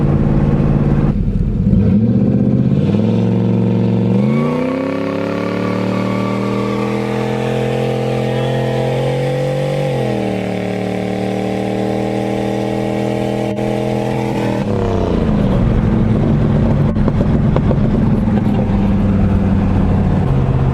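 A turbocharged Ford Thunderbird fitted with a 3800 stall converter accelerates hard, its engine note climbing and holding a loud, close drone through the gears before dropping back near the end, with no talking.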